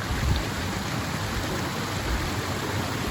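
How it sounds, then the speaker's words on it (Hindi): Small waterfall in the Spiti Valley mountains: a steady, broadband rush of falling water, close and fairly loud, filling the whole clip with no voices. "ये छोटा सा वाटरफॉल"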